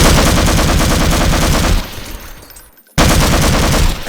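Loud, rapid gunfire in Half-Life Resurgence, played in Garry's Mod, as winged creatures are shot inside a closed room; continuous bursts drop away briefly into near silence before the shooting slams back in at full volume.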